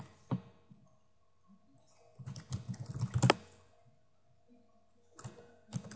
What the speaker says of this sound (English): So let's just type in some random words and get some history